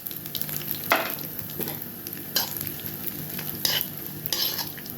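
Ajwain seeds frying in hot oil alongside other spices, a steady close sizzle broken by several sharp utensil scrapes and clinks, no voices.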